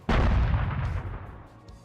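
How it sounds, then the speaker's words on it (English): A Sabre missile fires in a Halo 3 multiplayer mod, a single loud, close cannon-like boom that rumbles and fades over about a second and a half. "If you listen here, this is the Saber missile"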